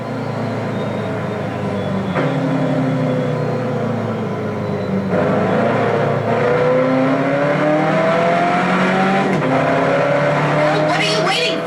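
A race car in Test Drive Unlimited 2 accelerates hard, its engine whining up through the gears with rising tones and shift breaks, loud and close under game music.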